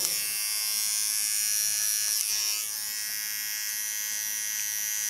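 A small electric hair clipper trims hair for a side beard and sideburn line, humming steadily and closely with a bright buzzing tone that dips slightly midway.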